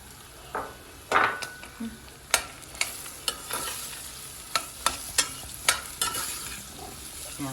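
Onion tossed into a pot of browned meat for a Turkish meat and dried bean stew, giving soft sizzling with a string of sharp stirring and scraping knocks against the pot, fairly close and without talk.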